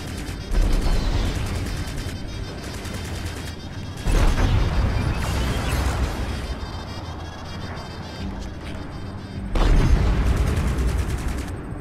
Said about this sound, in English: Switch to machine guns to strip down their shields.